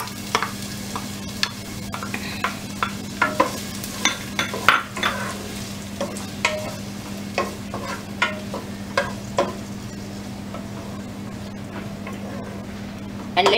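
Onions sizzle in hot oil and ghee in a pan, a steady frying hiss under a low hum, punctuated by regular spatula taps and scrapes through the first half, with no speech.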